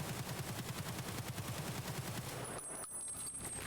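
A weapon fired on full-auto at close range in Escape from Tarkov, a steady rapid stream of shots lasting several seconds before stopping abruptly, loud and with no one talking over it.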